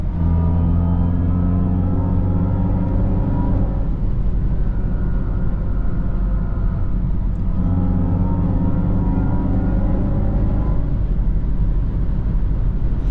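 A Mercedes-AMG EQE53 electric car slows under braking, its steady low whirring hum rising and falling in pitch across a few passes, continuous and loud with no talk.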